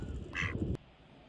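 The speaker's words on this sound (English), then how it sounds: "I will just focus on the male mallard duck." A male mallard duck gives a single short, raspy quack, close by and fairly quiet, followed by a brief low murmur of background noise.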